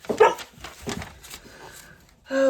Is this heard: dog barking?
yes